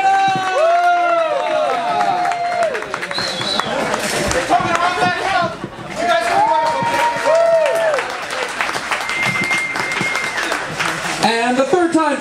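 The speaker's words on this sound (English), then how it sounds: "one more round of applause for Steve Cusetta!" Comedy show audience applauding and cheering loudly for a comedian at the end of a set, a sustained roar of clapping and whoops with voices calling out over it throughout.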